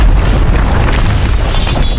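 A booming magical explosion as two clashing fire powers collide and burst into a ring, dense, loud rumbling impact noise filling the whole two seconds with no voices.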